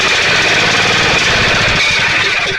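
A Generac 7000 EXL generator engine, suspected of getting no fuel through the carburetor, fires and sputters as it tries to start, giving loud, close, uneven knocking bursts without settling into a steady run.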